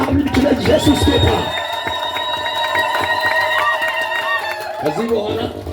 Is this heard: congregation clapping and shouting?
yes